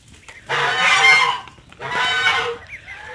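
A goose on a duck-raising farm gives two loud, close honking calls, each lasting about a second, separated by a short pause, with no other voices.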